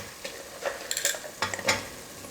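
Chopped beans, about ten to twelve of them, washed and cut, drop into a hot pan for vegetable biryani and begin to sizzle, with a few soft stirring clatters over a quiet frying hiss.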